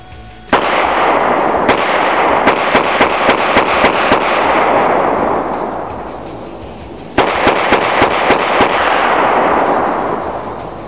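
A Smith & Wesson Model 910 9mm pistol firing, two bursts of rapid shots, each a loud sharp crack followed by quick follow-up shots and a ringing outdoor decay, with no talking.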